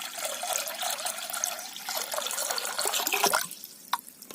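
Water runs from a tap or is poured steadily into a cooking pot for soup outdoors, a close continuous splashing stream that changes pitch as the pot fills, then stops near the end.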